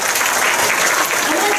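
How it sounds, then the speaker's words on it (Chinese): A school audience breaks into loud, dense applause up close, sustained clapping from many hands filling the whole moment without pause. "掌声鼓励"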